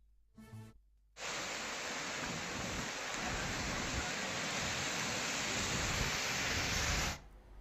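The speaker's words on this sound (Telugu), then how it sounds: "తుఫాన్ కారణంగా ఇప్పటికే పలు ప్రాంతాల్లో ఈదురుగాలులతో కూడిన వర్షాలు కురుస్తున్నాయి" Heavy cyclone rain pours in a dense, constant roar, with strong winds during the storm, starting abruptly after a brief quiet moment and then cutting off at the end.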